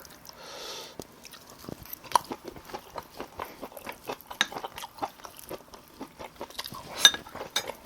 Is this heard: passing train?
no